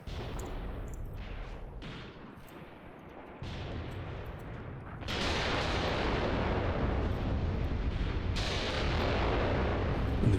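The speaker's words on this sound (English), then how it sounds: "Let's call in some fire there then. 10 rounds per gun just to start with." Artillery barrage in the war game Graviteam Tactics, with repeated booming shell impacts and rumbling blasts that build into a denser, louder roll of fire toward the end.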